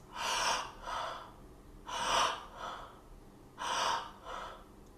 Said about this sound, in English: the conscious connected breath would be a breath in and out of the mouth with a wide open mouth